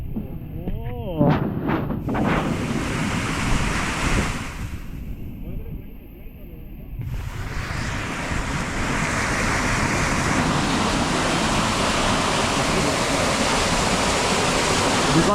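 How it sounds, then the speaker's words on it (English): Water rushes steadily through a channel that turns a traditional grinding wheel in a Chug Valley village of Northeast India, a loud, continuous roar filling the clip, briefly dipping midway, with occasional voices. "Oh, look at the flow of water, man."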